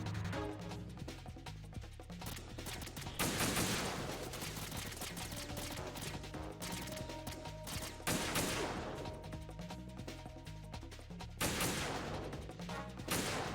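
Gunfire in Metal Gear Solid 2, bursts of rapid shots layered over the game's soundtrack and effects, fairly quiet overall, with heavier volleys recurring every few seconds.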